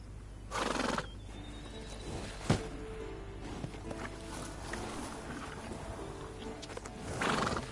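Horses in The Witcher 3: Wild Hunt whinny several times over a busy background, with hoof clops and a sharp knock mixed in, some calls near and others farther off.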